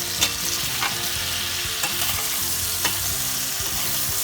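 Artichokes are stirred in a sizzling pan, with a steady frying hiss and a few sharp scraping strokes of the spoon close by, and no talk.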